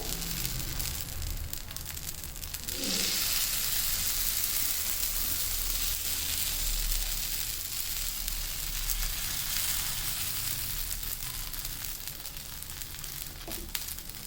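Dosa batter topped with tomato thokku sizzles on a hot pan, a steady, close, even crackling hiss that runs unbroken throughout with no voices.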